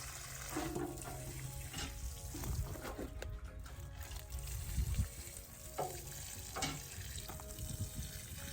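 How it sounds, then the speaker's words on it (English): Running water streams steadily at the base of collard green plants in a backyard garden, a continuous close splashing hiss. "you water the plant roots in."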